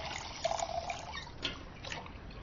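Water poured into a glass in a quiet apartment scene, a soft, brief trickle that is faint and close, with a light splash early on and no talking.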